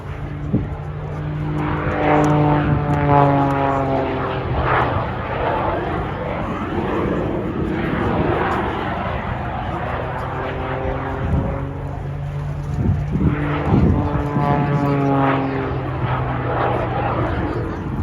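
Propeller aircraft performing an aerobatic air display at an RAF Cosford airshow, spiralling in a flat spin, its steady engine drone rising and falling in pitch as it manoeuvres overhead, loud and continuous throughout.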